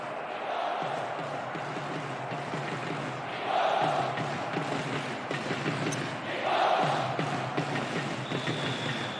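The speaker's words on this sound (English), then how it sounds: "There is nowhere quite like this for noise, the capacity crowd getting behind their team." Stadium crowd in the football video game Pro Evolution Soccer 2010, a continuous dense roar of a capacity crowd that swells into louder cheering twice, steady and enveloping throughout.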